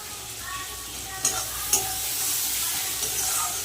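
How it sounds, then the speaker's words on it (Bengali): A spice paste with salt sautés in a pan, giving a loud, steady sizzle close by with a few sharp utensil clicks against the pan, and no talking. "মশলাটা কষানোর জন্য আর দিয়ে দেবো নুন"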